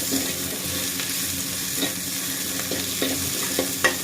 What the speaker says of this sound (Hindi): तो देखिए, प्याज मेरा फ्राई हो चुका है